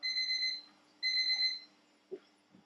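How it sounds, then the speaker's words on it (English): Two short electronic beeping bursts from a kitchen timer ring out in quick succession, followed by a couple of faint clicks in a quiet room. "that's our 15-minute timer"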